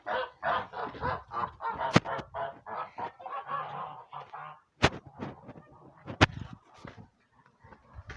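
Domestic geese kept with backyard poultry honk and cackle in a rapid, close series of calls, with a few sharp knocks and clatters in between and quieter stretches toward the end.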